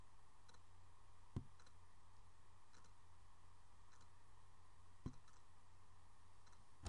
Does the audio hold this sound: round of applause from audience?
no